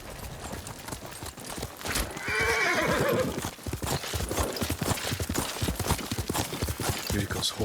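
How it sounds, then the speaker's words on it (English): Yuriko's horse whinnies loudly in Ghost of Tsushima, a rising-falling neigh over busy clopping hooves and clattering game action, with voices talking nearby. "Yuriko's horse."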